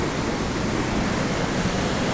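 A stream swollen by an overnight storm in Slovakia, rushing as a dense, constant roar of water close by, loud and unbroken, with no voices.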